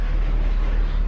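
A steady, loud low-pitched engine rumble from a garbage truck idling nearby, continuous with no breaks.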